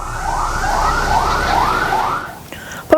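Ambulance sirens wail in repeated rising and falling sweeps during a school evacuation, loud and steady for over two seconds before fading, with a short sharp sound at the end.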